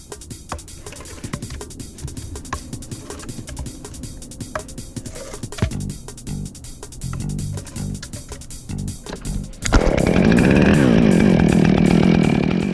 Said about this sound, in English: This is the 455 Rancher.